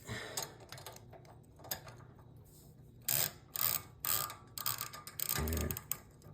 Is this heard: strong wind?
no